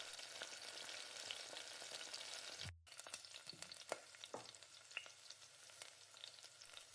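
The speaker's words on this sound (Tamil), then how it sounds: "கரண்டியை வச்சு நல்லா அழுத்தி இந்த மாதிரி கிளறி விடுங்க." Egg podimas being stirred and pressed with a ladle in a pan, soft sizzling broken by a brief gap, then scattered scraping clicks and taps of the ladle against the pan.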